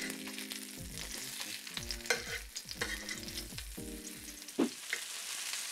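Tonkatsu pork cutlets fry in hot oil after being turned, a steady bubbling sizzle with intermittent spitting crackles and one brief louder splash.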